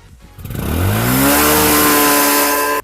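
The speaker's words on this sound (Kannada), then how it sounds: "ಇದ್ರದ್ದು ಹೆಂಗದ ಎಕ್ಸಾಸ್ಟ್ ಸೌಂಡ್ ಅಂತ" A Hero Splendor motorcycle's exhaust roars as the engine is revved, climbing quickly from idle to a loud, steady high-rev drone held close to the bike for about two seconds before cutting off.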